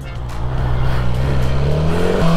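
Engine of a 2023 BMW S1000R naked motorcycle, a loud steady drone that rises slightly in pitch across the stretch, close and continuous without a break.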